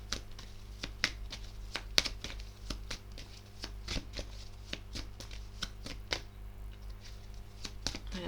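Tarot cards shuffled and drawn, heard up close as a steady series of sharp papery snaps and slaps at an uneven rhythm over a faint hum, with no voices.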